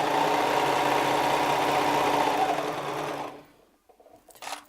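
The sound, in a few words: serger overlocking fabric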